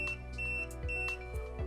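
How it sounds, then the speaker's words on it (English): A motorized window shade beeps to confirm a remote channel copy: a few short electronic beeps chirp over a steady mechanical hum, close by and fairly quiet. "The shade will jog twice and beep 3 times."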